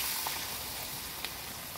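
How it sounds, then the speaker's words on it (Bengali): Hot water is poured into a pan of egg and potato curry, a broad steady sizzle and hiss filling the clip with a couple of small sharp pops, close and fairly even, no voices. "এই জলটা আমি দিয়ে দিচ্ছি।"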